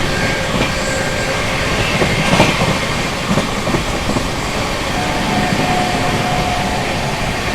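The Mahabodhi Express, an Indian passenger train, runs at speed with a loud, constant rumble and rattle of the carriage, broken by faint clicks from the wheels on the rails.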